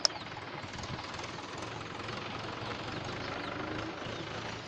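Steady drone of a tractor engine running while riding along a road in Bikaner, India, a continuous low rumble at even loudness with no talk.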